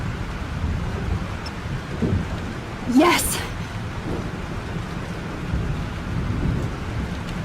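Thunderstorm in the Life is Strange video game: steady heavy rain and wind hiss throughout, with one close, sharp thunder crack rumbling near the middle; a voice briefly exclaims.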